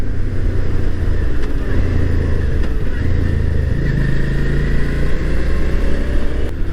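A Suzuki V-Strom 650XT motorcycle cruises along country roads near Mammoth Cave National Park, its engine a loud, continuous low rumble with wind rush, rising and falling slightly with throttle.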